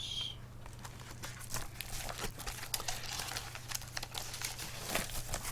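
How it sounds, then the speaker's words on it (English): A keyboard slides into a padded bag, giving continuous crinkling and rustling of the padded material with soft scraping handling sounds over a low steady hum, no talking. "So, back into the padded bag it goes."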